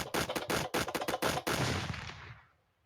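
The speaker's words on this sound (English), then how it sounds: "I don't have a round of applause, so I'm gonna give him gunshots" Rapid burst of gunshot sound effects at close range, about a dozen sharp cracks fired in quick succession, then a rumbling tail that fades out. They are played in place of applause on a podcast, and no one talks.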